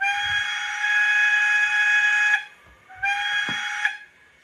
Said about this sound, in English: 3 is the whistle.